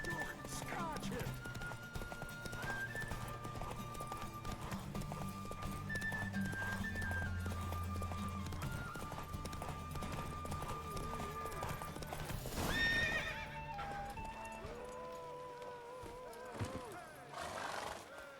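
A horse galloping in The Witcher 3, steady clip-clop hoofbeats with occasional neighs under music and ambient game sound, joined by speech near the end.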